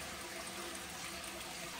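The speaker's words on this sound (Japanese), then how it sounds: "絶え間なくドバドバ出てくるこの湯量にもびっくりしますし" Milky-white simple sulfur hot spring water pours constantly in a mountain onsen bath, a faint, even rushing wash of flowing water with no break throughout.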